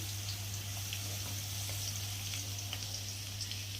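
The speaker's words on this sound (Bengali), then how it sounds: "আলুগুলোকে একটু লাল লাল করে ভেজে নেব" Potato pieces browning in oil in a kitchen pan give a continuous, even sizzle with faint crackles and spits, close by over a low steady hum.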